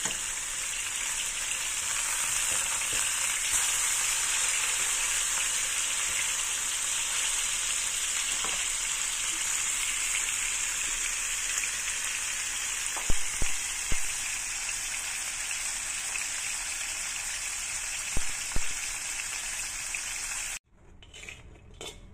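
Salmon fries in a pan with a steady, loud, close sizzle and crackle that continues unbroken, with occasional light utensil clinks, then stops abruptly near the end.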